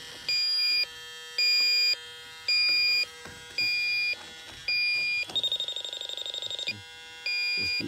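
An electronic refrigerant leak detector held near a heat pump gives a string of loud, evenly spaced beeps, then a fast stuttering burst of rapid beeps before the steady beeping resumes.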